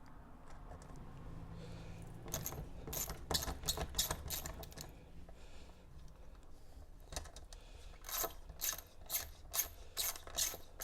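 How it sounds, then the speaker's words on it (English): A hand ratchet works loose the ring of bolts on a Lexx exhaust of a KLR 650 motorcycle, bursts of rapid clicking pawl strokes separated by pauses, close and moderately loud, with no speech. "So we'll undo this ring of bolts."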